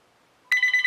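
An indoor telephone whose ringer cannot be turned off bursts into ringing after a moment of near silence, giving a loud, close, fast-pulsing bell trill for the rest of the short moment.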